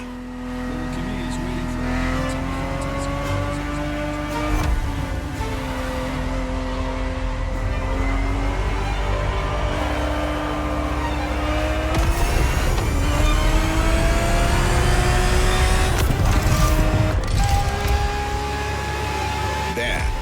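Ferrari 365 GTB4 racing in The Crew Motorfest, its engine note climbing and dropping through repeated gear changes with occasional tire squeal, loud and continuous for the whole stretch while a voice talks over it.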